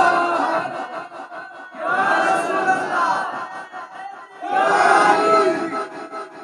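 A crowd at a religious gathering roars a slogan back in two loud bursts, broad massed shouting rising and falling with quieter murmur between.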